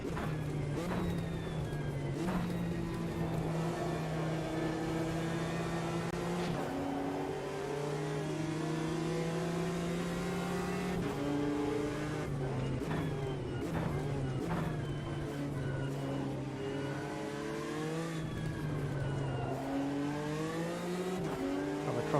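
Race cars, among them a Porsche 917, lapping in the racing video game Automobilista 2, engines droning loudly and continuously with pitch rising and falling through gear changes and several cars overlapping.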